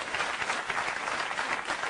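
A live comedy show audience bursts into applause, dense steady clapping filling the room for a couple of seconds without any voices over it.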